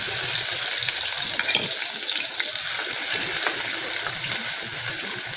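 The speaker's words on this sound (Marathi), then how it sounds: "तेलामध्ये जे आधी कुठून ठेवलं होतं ना मिरची लसूण आणि जिरं याचा ठेचा यात घालूया" Crushed green chili, garlic and cumin paste frying in hot oil for a fenugreek leaf dish, a continuous bright sizzling hiss with light stirring, fairly loud and steady, without talk.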